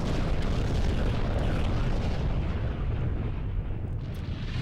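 A massive, roaring explosion in Gradius V, a sustained rumbling blast of dense noise that stays loud for several seconds before easing slightly at the end.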